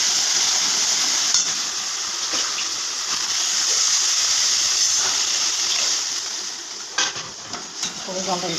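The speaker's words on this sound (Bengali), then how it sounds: "এবার এটাকে একটু কোনোরকম নেড়ে চেড়ে আমি জলটা দিয়ে দেবো।" Water poured into a pan of tilapia curry in a mustard paste, giving a steady broadband sizzle and gush that runs throughout, with a few sharper clatters near the end.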